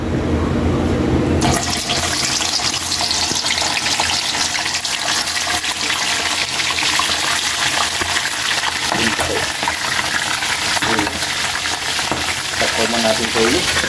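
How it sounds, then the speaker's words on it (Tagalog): Chicken feet fry in hot oil with a loud, dense, steady crackling sizzle that starts abruptly as they go into the pan and roars on unbroken, with faint voices underneath. "ipa-fried muna natin konti yung ating paa"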